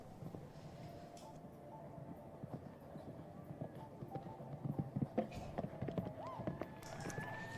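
Hooves clip-clop on the footing of a show jumping arena at a North American youth equestrian championship, faint and irregular under steady ambient arena noise, growing a little busier toward the end.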